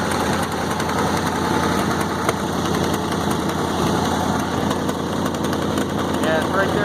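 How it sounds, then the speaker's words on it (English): 1965 International Loadstar truck engine idling steadily with an exhaust leak, a loud, even rumble with a fast ticking pulse throughout, close up. "I just hear an exhaust leak on the other side."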